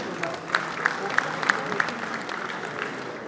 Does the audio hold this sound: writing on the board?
no